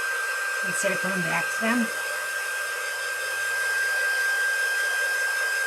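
A hair dryer blows steadily to dry the icing on decorated peppermint gingerbread boy cookies, a constant whooshing hum running the whole time, with a brief spoken phrase near the start.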